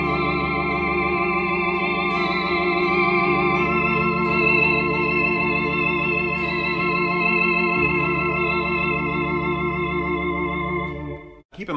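An organ machine on one of its presets holds rich, wobbling sustained chords with a warbly vibrato, played loud and close without voices, cutting off abruptly at the end.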